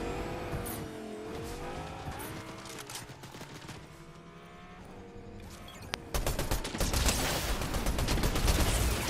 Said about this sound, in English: They're running away. They're getting in the car.